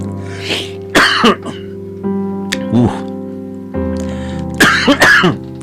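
A few rough coughs and throat-clearing bursts, close and fairly loud, separated by short pauses over a steady low hum.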